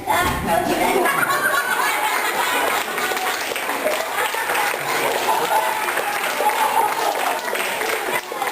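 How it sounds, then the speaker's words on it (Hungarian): An audience claps and applauds steadily for several seconds, a dense, even wash of hands with a few chuckles mixed in, while a voice talks over it. "Megtapsoltak meghajlás nélkül is."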